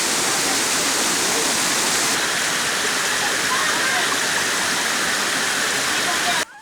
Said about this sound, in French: mais aussi de cette chute d'eau